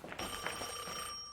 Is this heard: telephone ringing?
yes